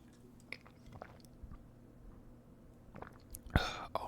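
Close, quiet chewing and biting of KFC chicken tenders and fries, soft wet crunches and mouth sounds with faint whispery breaths and a sharper crinkle near the end.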